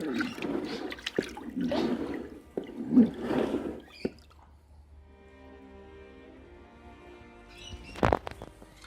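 Aquarium sand for a frog tank being rinsed with water, sloshing and splashing in bursts for several seconds, then a quiet stretch of dripping and trickling and a final short splash, close by.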